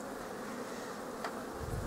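Honey bees buzz steadily at an open beehive while the nest is being arranged for wintering, a dense, continuous hum close by with no talk.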